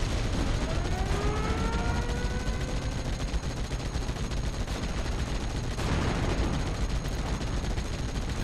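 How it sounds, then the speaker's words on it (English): Machine gun fire in the WWII strategy game Steel Division: Normandy 44, with dense rapid bursts rattling continuously over a busy battlefield din, sounding at moderate distance without speech. "The Pak 38 up on the hilltop also takes machine gun fire from multiple vehicles"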